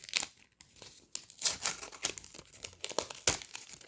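A Super Mario card pack is torn open by hand, with close, crisp paper crinkling and tearing in quick irregular bursts separated by brief pauses.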